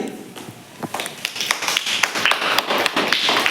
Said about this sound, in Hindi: भलो करछथि ताको पे ताली